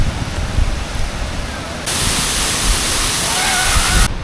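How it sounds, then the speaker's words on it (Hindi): Heavy monsoon rain pours down with rushing water nearby on a mountain trek, a loud continuous hiss that intensifies midway and stays steady and close throughout. "बारिश आ रही है जा रही है, सामने इतना पानी है, इतना पानी है"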